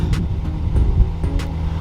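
An aftermarket Megan Racing exhaust on a Subaru BRZ idles with a soft low burble, running fitted without a gasket. The steady rumble is quiet and close, with faint puffs and light ticks over it.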